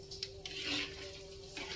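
Macaroni frying over low heat in hot cooking oil, a soft continuous sizzle with a few light scrapes and clinks as it is stirred in the pan, quiet and close.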